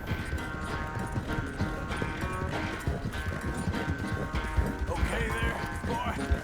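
A horse in Red Dead Redemption 2 gallops with quick, steady clip-clopping hooves, close and continuous under faint game ambience and a brief whinny-like sound near the end.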